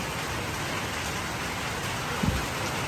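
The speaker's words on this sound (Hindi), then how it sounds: "अल्लाह की रहमत हो रही है माशाल्लाह, बारिश बरस रही है" Rain falls steadily on a modern sheep farm in Pakistan with plastic slatted flooring, an even, dense hiss of drops throughout, with one brief low thump near the end.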